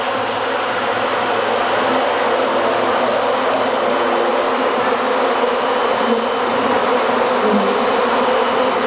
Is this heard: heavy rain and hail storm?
no